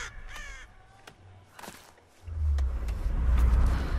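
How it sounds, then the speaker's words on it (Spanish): Crow cawing from the Tomb Raider (2013) video game, several sharp harsh caws in the first half, followed by a rising low rumble of game ambience. "¡Hay un pajarito!"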